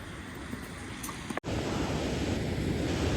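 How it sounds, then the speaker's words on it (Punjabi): Rushing mountain waterfall on the trail between Govindghat and Hemkund Sahib, a steady broadband roar of falling water that fills the scene continuously, with only a momentary dropout partway through. "ਦੇਖੋ ਇਹ ਝਰਨਾ ਵੀ ਪਾਣੀ ਦਾ ਆ"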